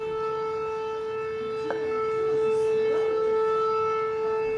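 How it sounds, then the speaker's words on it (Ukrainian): An air raid siren sounds at night in Makhachkala, Dagestan, holding a loud, steady wailing tone throughout with no voices over it. "Цієї ночі сирена повітряної тривоги лунала у Дагестані у місті Махачкала."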